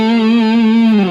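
A single loud, sustained distorted electric guitar note, taken from a minor pentatonic lick, held for about a second with a slight bend downward at the end.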